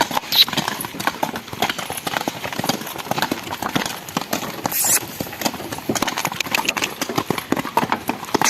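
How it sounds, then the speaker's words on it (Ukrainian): Horse hooves clip-clop in a quick, uneven rhythm as a working horse moves through a winter setting, close and fairly loud, with an engine idling faintly behind and brief talk. "Доброго коня, який накатаний, таке має бути."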